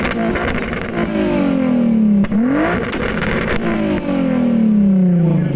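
A car engine at a car show sound level measurement revs loudly and close, rising and falling in repeated sweeps with a brief dip between pulls.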